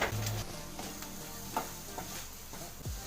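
Chili powder, coriander powder and garam masala fry with onions in a pan, a soft low sizzle broken by a few scrapes and stirring knocks of a spoon, fairly quiet with no talking.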